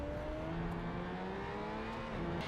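A hypercar with an Audi-derived four-wheel-drive system accelerates hard in the racing game Project CARS 3, its engine tone climbing in steady rising harmonics over a continuous loud roar.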